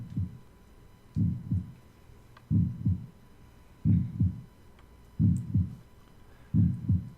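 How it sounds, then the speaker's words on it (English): Heartbeat effect from the Super Nova (Darius Force) shoot'em up game: slow, steady double thumps, six pairs evenly spaced over a low hum, deep and close. "Nice heartbeat going, running in the background."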